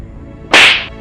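A single sharp slap lands in a Hindi horror story drama, one loud crisp smack with a short bright tail, standing alone against a quiet background.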